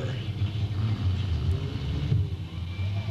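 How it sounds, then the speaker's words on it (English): Race cars at Delta Speedway in 1998 rumble around a corner under caution before the green flag, a steady loud low engine drone with slight swells throughout. "Cars come around the corner."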